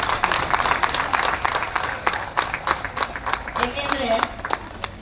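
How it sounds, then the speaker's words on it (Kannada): Audience applause at a school teachers' tribute function, dense steady clapping from a crowd in a hall, moderately loud, with a voice talking over it. "ನಿಜವಾಗ್ಲೂ ಜೋರಾಗಿ ಚಪ್ಪಾಳೆ ನಿಮ್ಗೆ ಕೊಡ್ತಾರೆ."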